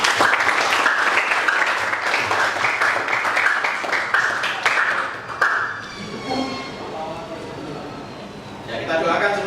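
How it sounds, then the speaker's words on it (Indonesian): Students in an Islamic religious education class give a burst of dense, close applause lasting about five seconds, then it fades into voices talking in the room. "Tepuk tangan untuk kita semua."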